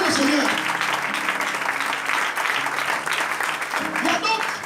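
Congregation applause at a church service, a dense steady wash of clapping mixed with voices and cheering that holds throughout at close, full volume.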